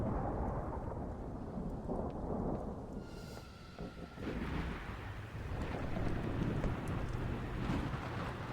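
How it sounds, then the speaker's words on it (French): A thunderstorm in the video game The Great Outdoors rumbles with steady heavy rain and wind, a deep roll of thunder swelling midway, filling the whole stretch with dense, continuous noise and no speech. "Il y aura l'orage bientôt."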